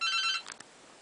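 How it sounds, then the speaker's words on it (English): A mobile phone ringtone gives a brief, faint electronic trill lasting under half a second before cutting off, followed by quiet. "That's my phone going."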